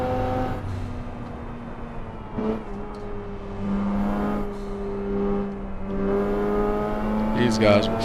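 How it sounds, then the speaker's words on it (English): An older-model Toyota Supra engine in a street-car cruise racing video game drones and revs steadily as it passes, with a sustained engine hum and a brief surge near the end. "his engine sounds like I think he's in a Supra. The older model Supra"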